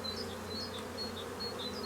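Honeybees buzz in a close, continuous hum beneath a beehive floor, with individual wingbeats rising and falling as they move around.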